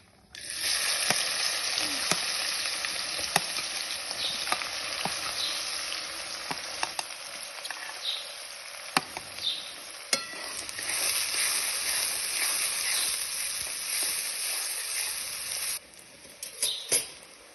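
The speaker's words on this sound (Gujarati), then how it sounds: "પછી હવે આપણે કેપ્સિકમ અને કાંદાને સાંતળી લઈશું।" Capsicum and onion sautéing in a pan with cumin and asafoetida, a steady close sizzle and crackle running throughout with occasional light stirring taps.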